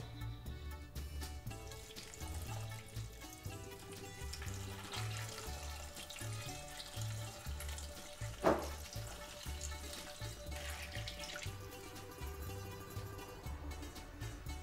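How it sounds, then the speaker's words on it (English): Water poured into a pot of browned lamb shanks, a steady soft hiss and splash with some sizzling, faint and continuous with a brief louder splash midway, and no talk. "And now add your water."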